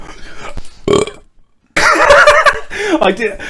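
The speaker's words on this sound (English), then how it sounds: "hang on, I got a burp now." A man on a podcast lets out a couple of short burps, followed by a brief silence and then a longer, voiced belch that trails into vocal sounds.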